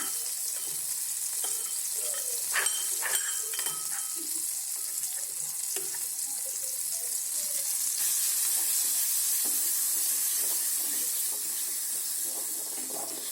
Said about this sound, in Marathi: जोपर्यंत ठेचा खाली चिटकत नाही तोपर्यंत तळू द्या